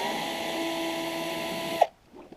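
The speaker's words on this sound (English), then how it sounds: "So we will take our screw gun and remove each of these." A screw gun whirs steadily as it backs out a chassis machine screw from a Marshall Class 5 amp, then stops abruptly, leaving a faint rattle.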